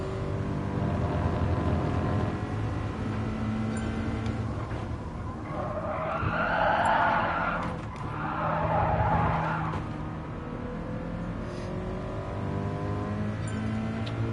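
A Toyota GT86 engine in the Gran Turismo Sport racing game, a continuous droning engine note with rising and falling revs and a swelling burst of higher-pitched noise in the middle, with no voices over it.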